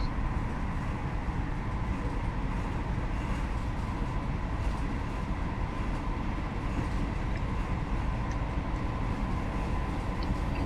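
Constant broadband drone of an HST running along the Chester to Holyhead line in Train Sim, the wheel and engine roar holding steady and unbroken from start to finish, with no voices.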